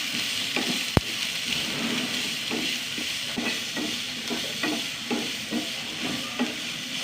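Garlic, ginger and slit green chillies sauté in a pan, a soft steady sizzle broken by a regular rhythm of spatula stirs and scrapes, close up, with one sharp knock near the start and no talk.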